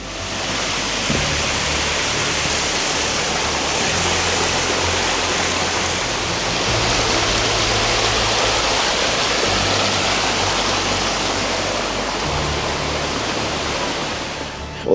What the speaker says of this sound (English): Rocky Mountain Mister getting me some footage of a little side creek.